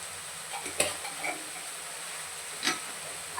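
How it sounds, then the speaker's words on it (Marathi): Spice masala fries in oil in a pan for a green chickpea curry, a soft steady sizzle broken by two sharp clinks of a spoon stirring against the pan. "आता हे मसाल्याला तेल सुटेपर्यंत छान असं मिनिटभर परतवून घेऊया"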